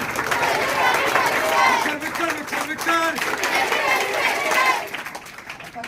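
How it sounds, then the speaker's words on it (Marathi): A group claps their hands loudly and rhythmically while chanting together in unison. The clapping and voices stay full and energetic, then trail off toward the end. "खरोखर त्याने जोरात टाळी वाजवली."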